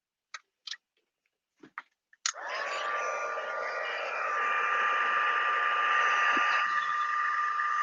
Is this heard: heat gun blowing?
yes